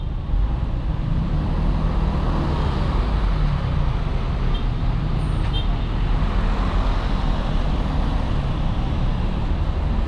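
Dense road traffic on the route from Caloocan to Quezon City, Metro Manila, with many public transport vehicles, gives a loud, constant low rumble of engines and tyres, with a faint brake hiss midway.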